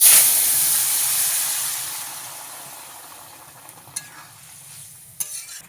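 Small-fish curry with gourd greens poured into a hot pan: a loud burst of hissing sizzle that slowly fades, followed by a couple of sharp utensil knocks, close and without talk.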